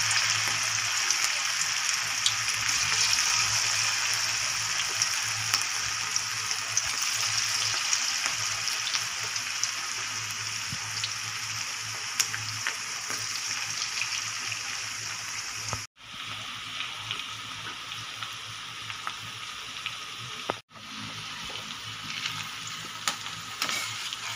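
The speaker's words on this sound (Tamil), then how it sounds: "இப்போ நம்ம எண்ணெயில் போட்டு எடுக்கிறோம். இந்த மாதிரி வடை ஷேப்பில் போட்டு எடுத்துக்கோங்க." Cabbage vadas deep-frying in hot oil make a steady, dense close sizzle that crackles continuously, broken by two brief moments of silence.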